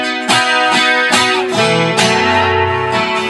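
Electric guitar chords from a song, strummed loud and close in a steady rhythm, several ringing chord hits over one unchanging shape, with no voice over them.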